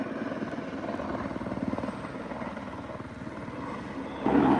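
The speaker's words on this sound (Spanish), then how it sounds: "El helicóptero está haciendo las maniobras." A firefighting helicopter manoeuvring nearby to drop water, its rotor producing a steady rhythmic chopping thump over a constant engine drone, fairly close and continuous, with a brief louder rush near the end.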